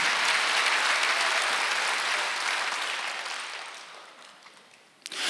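Congregation applauding at a Korean Sunday church service, a dense steady wash of clapping that gradually fades toward the end, followed by a brief renewed burst.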